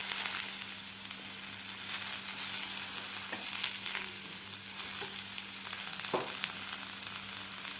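Washed val bean pods hit a pan of hot masala and fry with a steady close sizzle, broken by a few scraping stirs and soft clatters of the spoon, with no speech.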